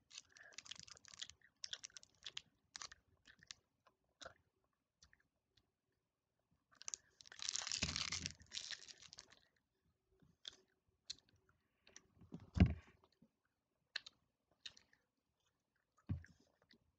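Someone chewing food close up, with soft crunchy bites and mouth sounds coming in irregular bursts separated by quiet gaps, one louder stretch of chewing in the middle, and no talking.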